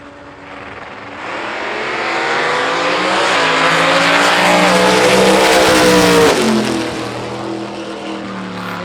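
Drag racing cars, a turbo against a big blower, launch and accelerate hard down the strip, a loud, rising engine roar that peaks and then fades as they pull away.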